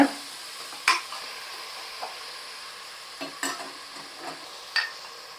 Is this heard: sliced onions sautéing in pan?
yes